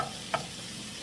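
Ground sausage frying in a non-stick pan, a steady quiet sizzle with one brief scrape of a stirring utensil.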